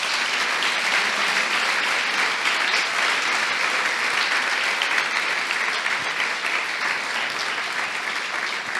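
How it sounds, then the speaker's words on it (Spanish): A congregation applauds for God during a Spanish-language church service. The clapping is loud, dense and continuous, filling the space without pause for nearly nine seconds. "un aplauso para Dios"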